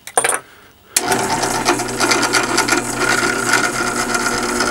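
A metal tap grinds and ratchets steadily as it is turned into a drilled wooden woodturning tool handle, a loud continuous rasping close up after a short opening scrape and pause.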